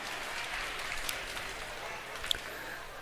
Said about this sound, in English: You already gave him a little round of applause.